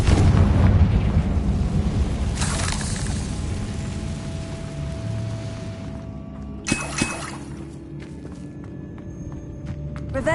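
A Confringo spell blast in the Hogwarts Legacy video game bursts with a loud booming explosion and shattering debris, then fades into a low rumble before a second sharp crack near the end.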